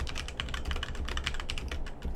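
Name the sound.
typing on HyperX Alloy Origins Core membrane keyboard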